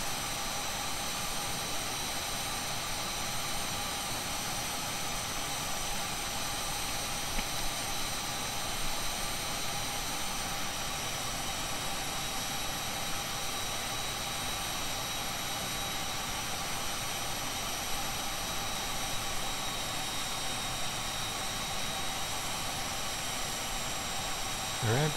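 An Aermacchi MB-338 military jet trainer's engine drones in Microsoft Flight Simulator, a steady, even roar with high whining tones held throughout, unbroken for the full length.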